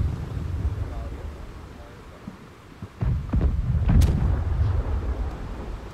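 A ship under cannon bombardment in the pirate game Blackwake, with low booming impacts and rumbling blasts that swell after a brief lull, heavy and close, and a voice talking over it.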